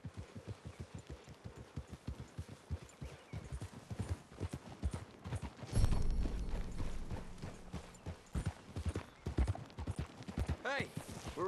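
Horse hooves clip-clop steadily in Red Dead Redemption 2 as riders move through trees, a close, rhythmic trot with a heavy thud midway and voices talking over parts of it.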